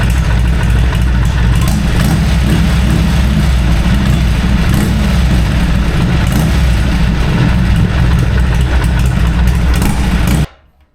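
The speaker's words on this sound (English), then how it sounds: "Let her idle for a little bit." A Harley Sportster motorcycle engine idles steadily and loudly close by, a continuous rumbling throb that holds for about ten seconds before cutting off abruptly.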